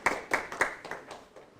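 A small lecture audience gives a professor a brief spatter of handclaps: a few distinct, fairly close claps in a loose rhythm that quickly thins out and fades within under two seconds.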